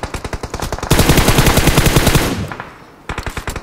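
Rapid automatic gunfire in PUBG Mobile on the Sanhok map, loud close bursts of rattling shots with a sustained heavy volley in the middle, a brief lull, then another burst of rounds.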